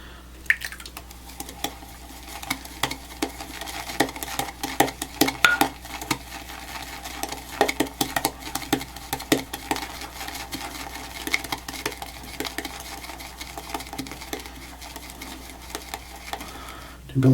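A shaving brush whipping soap into lather inside a bowl, a steady wet swishing and patting with small clicks of bristles against the bowl, close and continuous with faint background hum.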